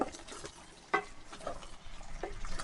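Chicken fry being stirred in a pan after coriander is added, a few scraping and clinking strokes over a soft sizzle, close and fairly quiet.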